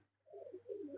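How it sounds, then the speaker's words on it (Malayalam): A jack-tailed pigeon in a loft gives a short, soft rolling coo, faint and fairly close, over a low steady hum with no voices. "ഒരു ജാക്ക് വാലില് പ്രാവ്."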